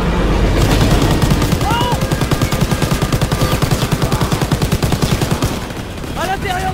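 Rapid machine-gun fire in Call of Duty WWII rattles steadily in a fast, even burst that lasts several seconds, loud and close, with a few faint voices behind it.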